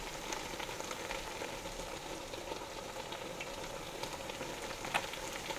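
Onions fry in oil with a steady, quiet sizzle and faint crackle, an even hiss throughout with one slightly sharper pop near the end and no talking.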